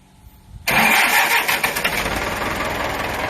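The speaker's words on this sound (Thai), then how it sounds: "เดี๋ยวลองฟังเสียงเครื่องกันหน่อย" A starter cranks briefly, then an engine catches with a sudden loud roar and settles into a rough, rumbling idle.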